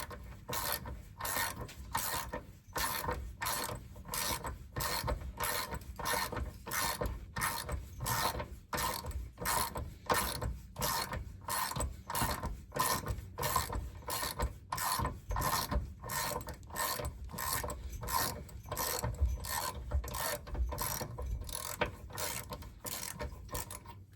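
Ratchet wrench loosening the driveshaft center support bearing bolts on a 1960 Cadillac limousine, with a steady, rapid clicking that runs continuously up close and stays loud throughout, with no talk.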